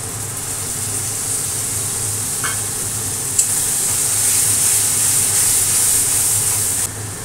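Spice paste for loitta (Bombay duck) fish sizzles in a pan with deeply browned fried onions, a steady broad hiss running throughout with a brief clatter near the middle, no one speaking.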